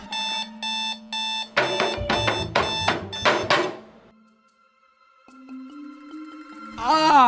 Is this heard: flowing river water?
no